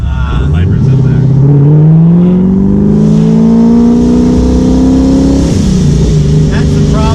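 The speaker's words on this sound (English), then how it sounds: "The supercharged V8 sounds nasty." A supercharged V8 engine in an 841hp Corvette revs up loudly, pitch climbing steadily for several seconds before dropping off, close and aggressive.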